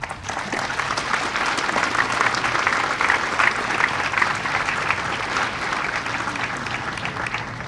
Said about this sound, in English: I think is worthy of your applause for yourselves for your dedication to collaboration